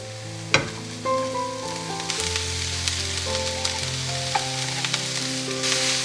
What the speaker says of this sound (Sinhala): දැන් අපි ගෝවා ටික දාගනිමු.